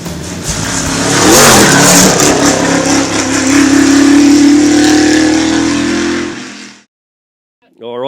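A powerful car engine roars and revs hard for several seconds, loud and close, then cuts off abruptly into silence.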